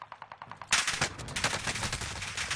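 Heavy automatic gunfire in a multiplayer shooter video game, starting as a quick rhythmic patter and then swelling into a loud, dense, continuous burst of rapid shots.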